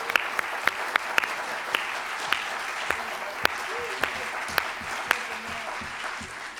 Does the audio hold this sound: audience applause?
yes